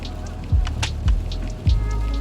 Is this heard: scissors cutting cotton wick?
no